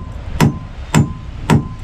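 Three evenly spaced hammer blows ring out sharply on metal, each a crisp clang with a short ringing tail, close and loud.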